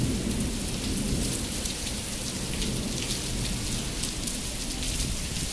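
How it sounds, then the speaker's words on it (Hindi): Heavy, steady downpour in Makkah drums loudly and evenly on surfaces with no let-up, a low thunder rumble blended into the dense roar of the rain. "देख सकते हैं आप लोग बहुत तेज़ बारिश बरस रही है।"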